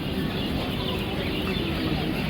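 Quails on a quail farm make a dense, continuous clucking and chattering, with many small birds calling at once close by and no pause across the whole stretch.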